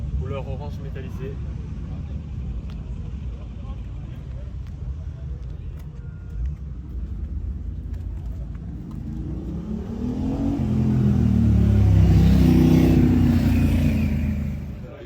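An orange metallic Toyota GT86 at an outdoor car meet in Lille, engine rising into a loud rev that swells near the end over steady crowd and traffic noise, with voices in the background.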